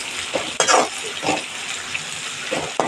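Chopped onion frying in a pan for village-style chicken curry, a steady sizzle with a few louder stirring scrapes, moderately close and without talk.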